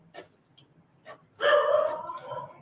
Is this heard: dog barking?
yes